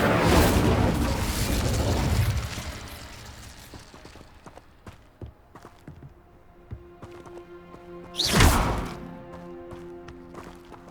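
Incendio fire spell cast in Hogwarts Legacy, a loud whooshing fiery burst at the start, then scattered clicks and small impacts, and a second sharp flaring burst near the end.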